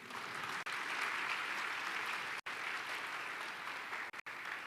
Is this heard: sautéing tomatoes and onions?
no